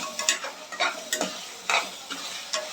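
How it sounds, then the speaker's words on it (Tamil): Thorny brinjal (eggplant) is stirred and sautéed in oil for a gravy: a close, lively sizzle with repeated scraping strokes of a spoon against the pan, irregular but continuous, with no voices. "கத்திரிக்காவை சேர்த்து நல்லா வதக்கி விடுங்க."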